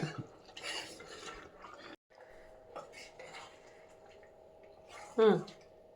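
A spoon stirs and scrapes through herbal moringa chicken curry in a pot, giving soft intermittent clinks and a louder metallic scrape near the end, with quiet talk in the background.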